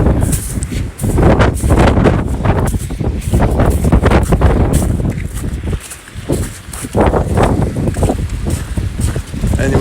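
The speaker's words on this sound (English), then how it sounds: "And it's windy." Strong, steady wind noise buffets the microphone throughout, a broadband roar that gusts and dips briefly, with faint footsteps underneath.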